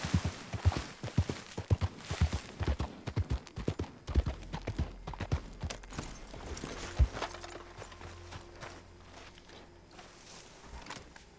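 Horse hooves clip-clopping in the Red Dead Online video game, a quick run of sharp, close strikes that thins into a slower, sparser gait over a steady low hum.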